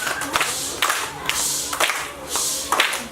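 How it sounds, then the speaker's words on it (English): An audience at a school debate event giving rhythmic group claps in repeated bursts, loud and close with crowd noise between them. "you really deserve a firework claps"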